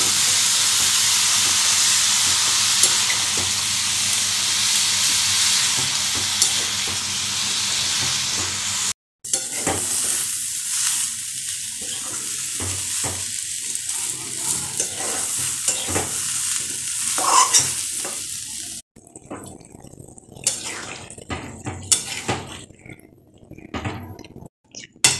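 Young jackfruit and potatoes, boiled beforehand, sizzle loudly while being sautéed and stirred in a pan. A steady frying hiss fills the first stretch, then breaks into intermittent scraping and stirring with quieter sizzling beneath. No voices.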